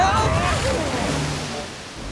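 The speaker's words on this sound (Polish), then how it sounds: "Wir wciąga mnie pod wodę!" A cartoon whirlpool churns water with a loud rushing, swirling wash that slowly fades, while a voice speaks over it.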